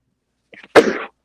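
A single sharp, loud sneeze comes close up, preceded by a quick intake of breath in an otherwise quiet room during a casual podcast conversation.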